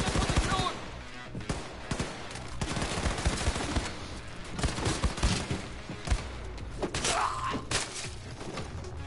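Rapid gunfire and thudding impacts from the video game Wolfenstein 2: The New Colossus, loud bursts of shots spread across the stretch, with chaotic game noise and a voice heard at times beneath it.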